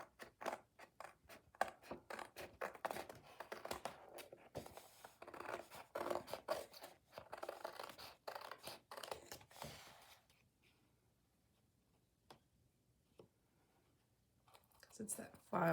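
Scissors cut paper into a file folder shape in a quiet room, with rapid, crisp snips in quick succession, then a pause before a few more cuts.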